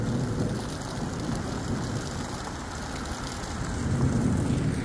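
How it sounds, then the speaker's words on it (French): Heavy rain pours without a break during a violent thunderstorm in the Drôme, a dense, steady wash of noise with a low rumble swelling toward the end. "Il y a 3 tonnes d'eau, il y a 3 tonnes d'éclairs."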